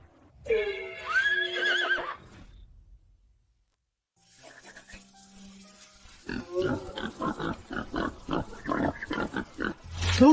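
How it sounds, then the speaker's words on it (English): A black pig on a farm squeals in shrill, strained bursts, loud and close, followed after a pause by animated talk with animal noises mixed in. "That's my family's black pig."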